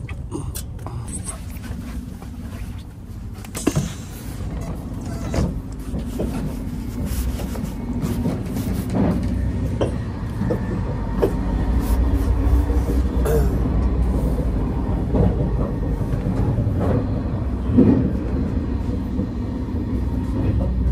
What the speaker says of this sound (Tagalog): Dito tayo ngayon sa train.